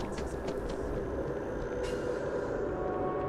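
A train in the video game Starfield rumbles steadily as a transit car carries the player toward the Commercial District, a continuous low roar with faint hiss and brief higher metallic accents.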